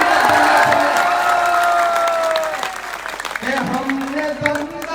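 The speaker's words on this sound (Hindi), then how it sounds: "आपकी तालियों का शोर" A large audience at a poetry recital claps and cheers loudly, with whoops and shouts over dense applause that gradually thins out, then picks up again briefly near the end.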